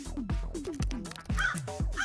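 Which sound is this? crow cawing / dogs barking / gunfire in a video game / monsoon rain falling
crow cawing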